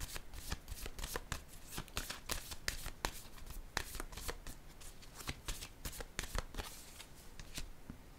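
Tarot cards shuffled and dealt at close range, a steady run of crisp riffling snaps and flicks with no talking.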